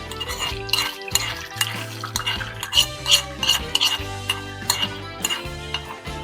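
Fenugreek seeds fry in sesame oil in a pan while a spoon stirs them, making irregular clinks and scrapes against the metal over a soft background, with no talk.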